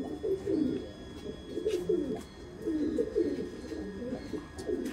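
Teddy pigeons in Muscat, Oman, cooing close by in repeated low throaty rolling phrases with brief pauses between them, clear and fairly loud against a quiet background.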